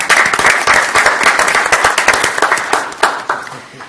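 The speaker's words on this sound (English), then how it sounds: "We can clap. Let's clap." A small group at a city council meeting claps together in a lively, uneven burst, individual hand claps standing out as the applause gradually thins.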